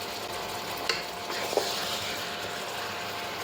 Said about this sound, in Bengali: এই খাড়া মশলা দিয়ে আমি প্রায় দশ মিনিট কষিয়ে নেব